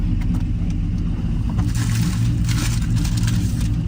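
A car engine runs steadily at close range, its loud, low hum continuous throughout.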